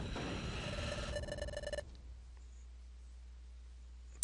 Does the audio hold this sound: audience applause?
no